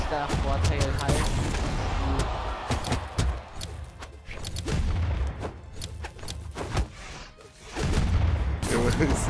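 Repeated explosion booms and thuds from the Brawlhalla fighting game, loud and frequent throughout, mixed with game effects while a voice talks over them.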